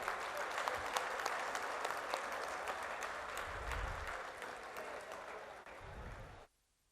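Audience applause at a book launch for an illustrated translation of the Samaveda, a steady wash of clapping from a crowd that holds for about six seconds and then cuts off abruptly.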